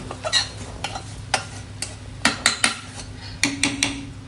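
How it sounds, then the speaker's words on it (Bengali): A spoon stirs thick, nearly dry khichuri in a metal pot just after a tempering is poured in, giving a series of close clinks and scrapes against the pot over a faint background hiss. "হালকা করে নাড়াচাড়া করে দিতে হবে খিচুড়িটা"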